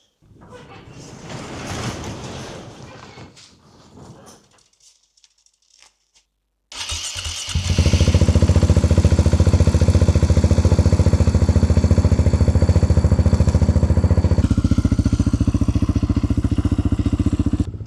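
A four-cylinder motorcycle with an Akrapovic exhaust starts inside a garage and settles into a loud, steady idle with a deep rumble. A clatter and brief talk come before it, and the tone shifts slightly partway through.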